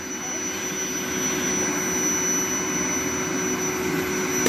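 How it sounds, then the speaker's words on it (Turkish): A vacuum cleaner runs with a steady, droning motor hum and a faint high whine evenly throughout, and there is no talking. "süpürge yapmayı çok seviyorsun değil mi anne"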